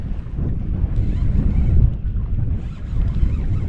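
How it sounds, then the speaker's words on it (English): Strong wind blowing across an outdoor catfish fishing spot on a chilly day, a loud continuous low roar buffeting the microphone with gusts rising and falling throughout. "It is quite chilly out here with this wind blowing the way it is."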